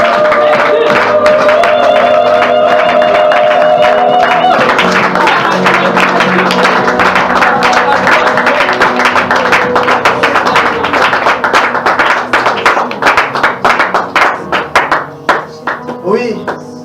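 Church congregation acclaiming Jesus: dense crowd clapping and cheering with voices, loud throughout, with rhythmic claps thinning toward the end while sustained tones sit beneath.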